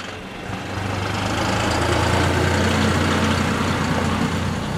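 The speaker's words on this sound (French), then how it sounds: "Attention, il y a le tracteur, puis il y a des voitures" A tractor engine runs nearby outdoors, a steady low rumbling drone that swells slightly and holds constant for several seconds with no talk over it.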